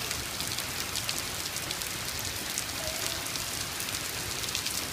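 Rain falls steadily on puddles outdoors, a dense close hiss of drops and splashes that stays even from start to finish.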